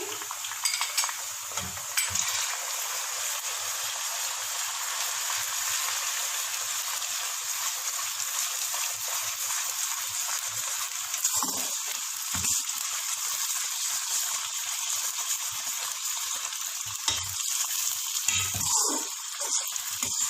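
Steady sizzling of garlic and ginger paste frying in a hot pan, with occasional stirring scrapes and clinks, fairly quiet and continuous, no talking.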